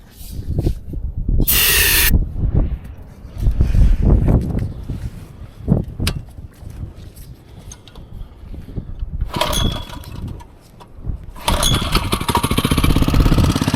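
Small engine of the kind bought at an auction, starting and running after choke adjustment, with loud bursts of revving and throttle changes between quieter idling stretches, close by and without talk.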